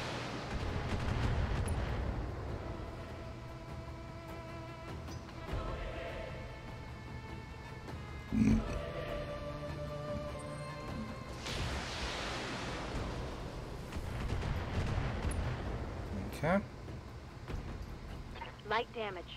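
Mech weapons firing in the Battletech PC game, a run of heavy booming and crackling blasts over a steady rumble, with a sharp burst midway and more impacts later, under ongoing talk.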